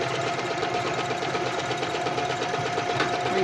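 A sewing machine runs steadily while reverse stitching to lock a seam, a continuous close mechanical whirring with a fast regular needle chatter throughout.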